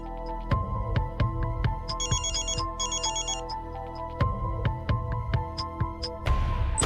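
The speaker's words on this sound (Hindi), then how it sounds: "ये फोन बज रहा है, तनु उठा क्यों नहीं रही है?" A mobile phone ringtone plays as a looping melodic ring, with repeating bright electronic tones and a steady pulsing pattern, loud and close, with no one speaking over it.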